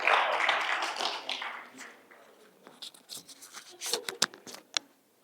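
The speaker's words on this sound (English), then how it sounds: "Give yourselves a round of applause" An audience claps and applauds in a small session room, with dense clapping fading away into a few scattered, sharp claps near the end.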